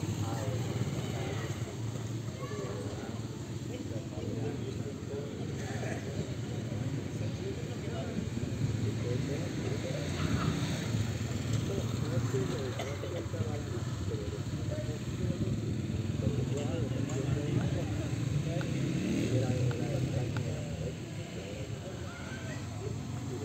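A drone flies and comes in to land outdoors in Villa Caro, Norte de Santander, with a steady motor whir running throughout under ambient noise while people talk nearby.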